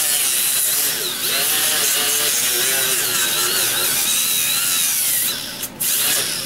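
A Scotch-Brite abrasive pad scrubs dirt off a metal deck, probably driven by a power tool. The steady, loud buzzing grind runs continuously and briefly dips near the end.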